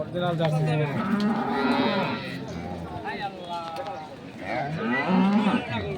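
Jersey dairy cows at a busy cattle market in Ambari, Dinajpur, Bangladesh, moo repeatedly nearby, a few overlapping calls rising and falling over background chatter from the crowd.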